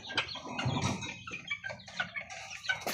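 Six-week-old native chickens give a series of clucks and chirps, close and fairly quiet, in irregular bursts from several birds.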